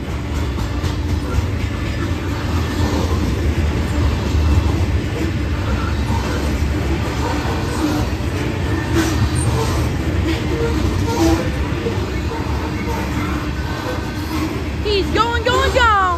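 A long, fully loaded freight train rolls past at a crossing, a steady loud rumble and rattle of cars that holds without a break, with a high squeal near the end.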